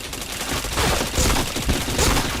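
Rapid bursts of gunfire rattle loudly in a shooter video game, dense overlapping volleys repeating through the short stretch with no talk.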